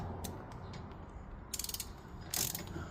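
A 19 mm ratcheting wrench clicks as it tightens a wheel spacer bolt on a BMW E90, with short bursts of rapid pawl clicks between quieter pauses, heard up close and faint.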